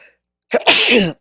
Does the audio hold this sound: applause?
no